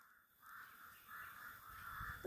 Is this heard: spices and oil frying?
no